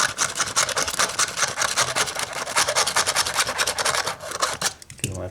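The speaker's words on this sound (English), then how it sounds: "So I'm just taking my razor knife and just scraping at that a little bit." A razor knife scrapes old adhesive off a Paradigm model 9SE speaker, producing continuous close, rough rasping strokes in a steady rhythm that break off near the end.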